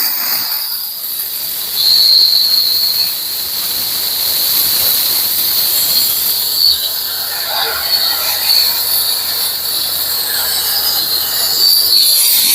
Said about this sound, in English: now let me try and start the steam cleaning